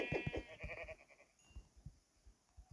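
Sheep in the video game Minecraft bleating, a couple of quick bleats up close followed by quieter footsteps or shuffling, with no talking.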